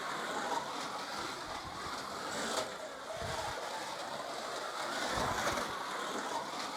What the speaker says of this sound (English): Sort of just playing around on, you know,